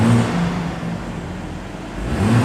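A BMW M440i's 3-litre turbocharged straight-six revs up, settles into a steady mid-pitched drone, then climbs again, heard up close with no talking.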